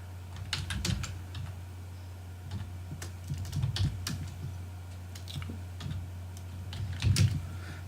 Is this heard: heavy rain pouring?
no